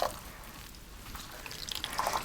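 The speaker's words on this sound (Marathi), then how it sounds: "ह्याचं पूर्ण पाणी असं चांगलं पिळून घ्यायचं." Washed mustard greens are wrung out by hand, with soft, close water drips and trickles falling steadily and no talking.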